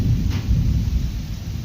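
A deep, rumbling roll of thunder from a severe wind storm, low and continuous through the short stretch with no voices over it.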